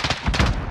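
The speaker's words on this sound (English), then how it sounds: "Stun grenade out." A stun grenade goes off in Call of Duty: Modern Warfare, a brief burst of loud, booming cracks that rumbles and fades within a second.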